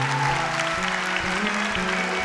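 Congregation applause during a church worship gathering, steady and fairly loud across the whole moment, with sustained organ or keyboard tones holding underneath.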